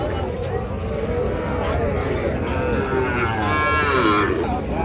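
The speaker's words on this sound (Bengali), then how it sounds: "এই যে বাচ্চাগুলো দেখেন, ষাঁড় বাচ্চাগুলো ভালো ভালো মানের ষাঁড় বাচ্চা" Sahiwal bull calves stand at the Chaubaria cattle market, and one lets out a drawn-out moo near the end, heard over a constant murmur of crowd and market noise.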